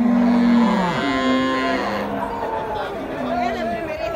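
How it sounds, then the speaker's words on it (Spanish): Dairy cows on a farm moo in long, low, drawn-out calls, two or three in a row at moderate distance, with murmuring voices and general barn noise underneath. "Este es el ganado."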